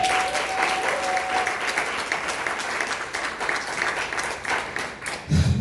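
A training seminar audience breaks into loud, sustained applause, dense clapping filling the room throughout.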